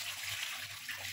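Water drains off sweet potatoes that were soaked in a basin, a steady close hiss and splash of flowing water with faint low gurgles and no talk.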